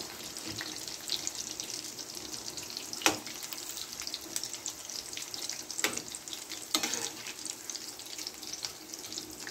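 Mirchi vada, a Rajasthani snack, frying in hot oil, a steady crackling sizzle throughout with a few sharper clicks and pops from the pan, close and alone without any talk.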